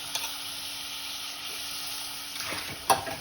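Bombay duck fish (bombil) sizzles steadily in a hot pan, with a high whine above the frying and a few spatula scrapes and clinks near the end.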